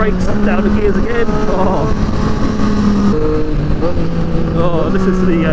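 A 2020 Triumph Street Triple 765 RS roars loudly close by as it downshifts under hard braking, with the auto blipper producing rising revs between gears, while someone speaks over the engine.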